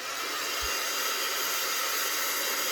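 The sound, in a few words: heat tool heating a paper album part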